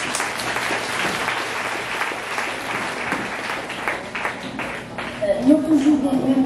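Church congregation applauding after a Bible reading in a French-language service in Jimani, Dominican Republic, a steady wash of clapping from a crowd lasting several seconds, with voices rising near the end.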